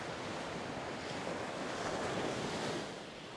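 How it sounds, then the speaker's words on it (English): Ocean surf rolling onto a sunny beach, a steady close wash of breaking waves with some wind buffeting the microphone and no voices. "Since I've been down here, the waves have increased in size a little bit."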